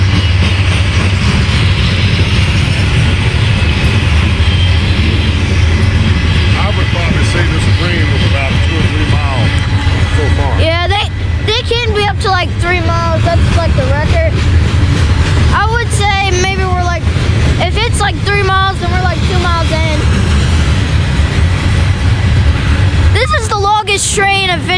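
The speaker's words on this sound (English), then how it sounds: "And I can hear the end as it approaches with the squeaking noise." A long freight train passes Saint Denis station in Halethorpe, Maryland, with a constant loud rolling rumble and repeated high, wavering squeals and grinding from the cars, plus some voices in the background.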